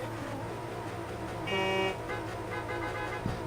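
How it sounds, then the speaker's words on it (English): Race drivers lined up at the start sound their car horns over an idling engine rumble: one loud sustained honk, then a second overlapping set of horn tones after a brief gap. "Alright, there are their horns."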